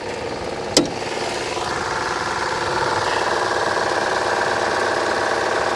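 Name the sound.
MG Midget car engine running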